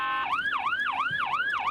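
Ambulance siren wailing in a repeating rising-and-falling sweep, loud and close, stuck in a snowy traffic jam in Slovenia, with faint road rumble beneath.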